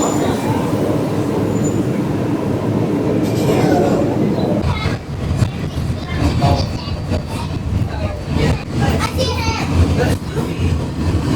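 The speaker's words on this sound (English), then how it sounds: "We still need to take the monorail from the TTC to Epcot." A Disney monorail train runs from the TTC to Epcot, a steady rumble and rattle of the ride with wheel clatter and cabin noise, while people talk and chatter over it.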